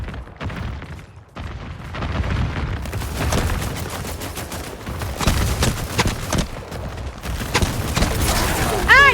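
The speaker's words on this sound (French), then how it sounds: "Je tire sur nos ennemis." Gunfire in the video game Highguard: bursts of rapid shots and booming impacts in a busy, loud mix, with intermittent clusters of firing and mechanical clatter over several seconds.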